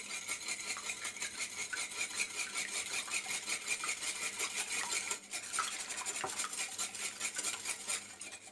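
A utensil whisks egg in a bowl for pancake batter, making steady, rapid scraping and clinking against the bowl. The sound is continuous and close, with no talking.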